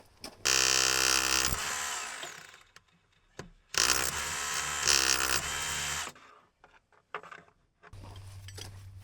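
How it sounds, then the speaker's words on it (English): Hammer drill on a backhoe under rebuild, buzzing bolts loose in two loud sustained bursts of about one and two seconds, with clanks and handling knocks between them and a low hum at the end. "get in there with that hammer drill from the top side and give these a few buzzes"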